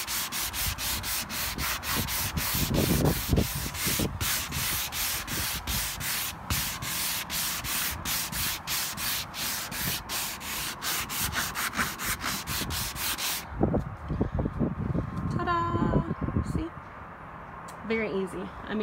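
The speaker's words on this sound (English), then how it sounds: "you can just sand and sand and sand until it's as light as you want it." A sanding block rubs over a glazed wood furniture finish in steady rapid back-and-forth strokes, close and loud, then stops near the end as a person begins talking.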